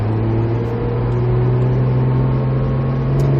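A Porsche GT3 RS engine pulls under rising throttle, a loud steady drone with a climbing tone heard from inside the car, with no talking.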